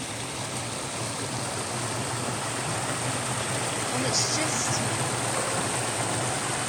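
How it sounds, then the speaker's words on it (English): Creek water spills steadily into a pool at a favorite spot along a farm trail, a continuous broadband rush that stays constant throughout, with a brief voice speaking over it. "it's where the creek spills in"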